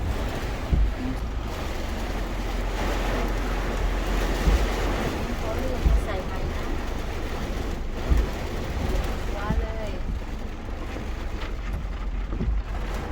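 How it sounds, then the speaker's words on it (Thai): Heavy rain pours steadily with a constant dense hiss and occasional louder thumps, faint voices murmuring underneath. "ฝนมาอย่างแรงเลยครับ"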